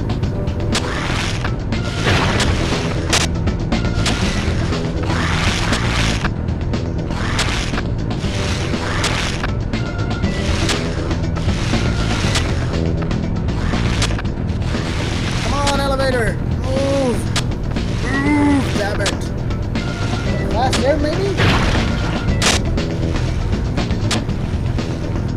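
Elevator machinery in the 2001 Spider-Man PC game grinds and clanks with steady mechanical creaks and ratcheting over a dense game music bed, with short whining squeals near the middle.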